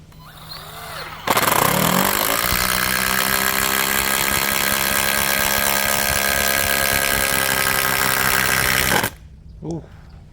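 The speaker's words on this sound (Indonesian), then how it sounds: "Ini kita tambah bebannya menggunakan skrup 13 cm, kepala hex 13 mili. Medianya masih sama, kayu mahoni." A Dongcheng cordless brushless impact driver drives a 13 cm hex-head screw into mahogany in one loud, continuous run of about eight seconds, with a faint voice before the burst and a brief clunk after.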